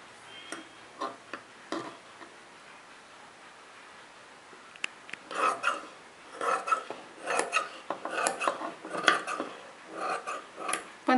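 Scissors cut through four stacked fabric pieces for chudidar pants. A few sparse, crisp snips come first, then a denser run of rasping cuts close by, with no talking.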